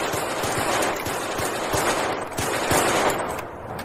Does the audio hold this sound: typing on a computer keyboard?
no